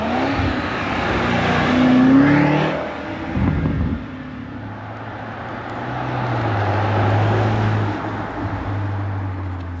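Range Rover Sport SV engine revving loud and close through a QuickSilver sport exhaust, with a swelling rev around two seconds, a sharp drop, then a lower sustained rumble building and easing again.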